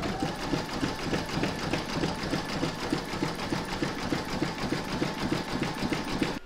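An embroidery machine sews a satin stitch along the top edge of an in-the-hoop mandala placemat, giving a steady rapid rhythmic chatter that runs unbroken, close and alone.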